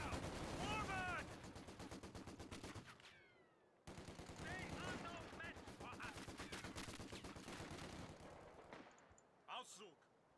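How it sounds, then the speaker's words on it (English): Machine gun fire rattles in sustained rapid bursts amid the battle noise of Company of Heroes 2, loud and continuous, fading briefly before resuming, then giving way to a few scattered blasts. "Taking MG fire!"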